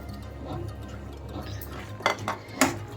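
Spoon scraping and clinking against a pot while fried dry fruits are mixed into banana kesari bath, a few sharp metallic clatters near the end over a soft steady background.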